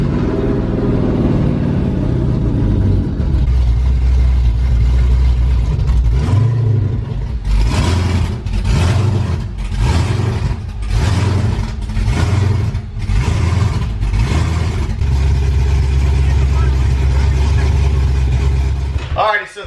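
The Freedom Rocket race car's engine runs with a loud, close, deep rumble, breaking into a series of sharp rhythmic revs midway before settling back to a heavy idle.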